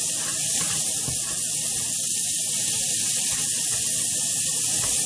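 Butter sizzling in a pan for a creamy penne with spinach and mushrooms, a loud, continuous, even hiss that holds steady throughout, close by, with no talking.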